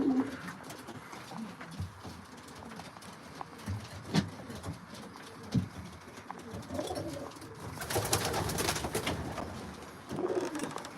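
Racing pigeons in a loft coo and murmur in a busy, continuous texture with shuffling and scattered taps, a brief flutter near the end, no talking.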